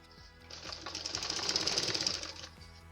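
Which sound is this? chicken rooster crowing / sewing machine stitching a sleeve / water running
sewing machine stitching a sleeve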